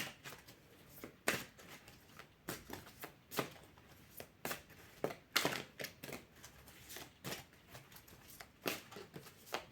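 Tarot cards are shuffled by hand over and over, giving sharp riffling bursts at an uneven rhythm against a quiet background, close up with no talking.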